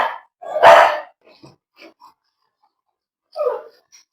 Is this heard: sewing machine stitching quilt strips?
no